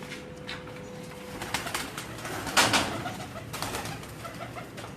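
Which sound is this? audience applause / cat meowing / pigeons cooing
pigeons cooing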